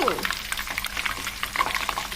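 Aloe vera gel with curry leaves boiling in oil, sizzling and bubbling steadily with a dense crackling hiss, close and continuous, with brief scraping sounds over it.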